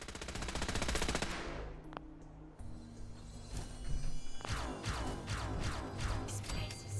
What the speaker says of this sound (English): Oh, they're shooting at that one.